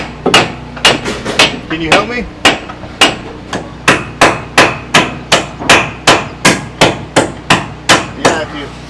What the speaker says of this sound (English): Hit that with the hammer.